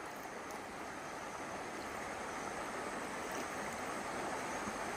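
A forest stream at Kallukuzhi in Pathanamthitta district, near the Adayappadu waterfalls in Kadambanadu, flows in a steady, broad rushing wash that stays even and unbroken throughout.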